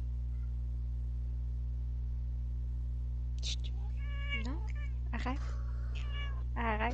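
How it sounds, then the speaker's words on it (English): A cat meows several times close to a microphone over a steady electrical hum, with rising and falling cries in quick succession. "Whose cat is up in the mic?"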